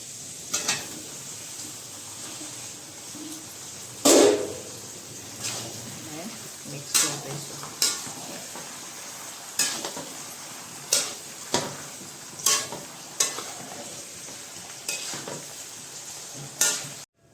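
Potatoes fry in a pan while a spoon stirs them for a dry potato dish, a soft continuous sizzle broken by repeated sharp scrapes and clinks of the utensil against the pan.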